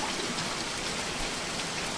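Heavy rain pours steadily during a South Carolina flood disaster, a dense, continuous hiss of drops at even loudness with no voices.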